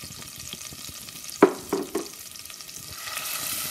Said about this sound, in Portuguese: vou saltear um pouco durante mais ou menos 2 minutos.